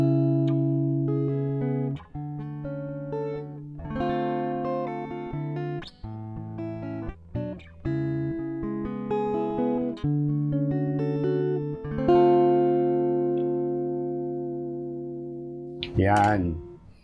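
A 2024 Squier 70s Classic Vibe Jaguar electric guitar plays on its warm rhythm pickup, strummed chords and picked notes ringing out steadily and close, with a brief bright flourish near the end and no talking.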